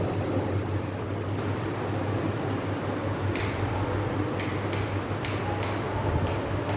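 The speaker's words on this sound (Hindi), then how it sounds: "क्योंकि पंखा चल रहा है" Electric ceiling fan running indoors, a steady whooshing hum that continues throughout, with faint scattered clicks and creaks over it.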